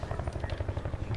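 A video game helicopter thrums with a steady, rapid rotor chop at low level, a short continuous burst heard alone.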